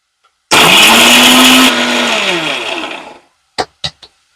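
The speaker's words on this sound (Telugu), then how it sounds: "ముందుగా నీళ్లు వేయకుండా మిక్సీ పడుతున్నాను" A mixer grinder whirs loudly for about three seconds as it grinds a dry spice mix with no water added, its motor pitch sliding down as it winds off, followed by three short knocks.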